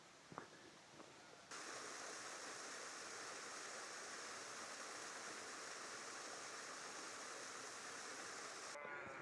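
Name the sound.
stream flowing in a ravine feeding the River Holme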